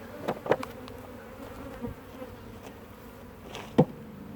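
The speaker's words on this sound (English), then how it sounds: "all those bees that I just shook out of there will make their way back over here" Honeybees shaken out of a hive buzz around in a low steady drone, with a few louder close passes of individual bees flying near.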